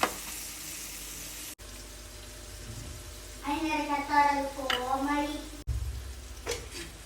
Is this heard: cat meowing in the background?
no